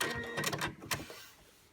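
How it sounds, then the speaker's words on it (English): A sewing machine stitching the last seam of a scrub hat, with a short, close whirring burst of stitching that stops abruptly and fades out. "Stitch it all the way to where you were before"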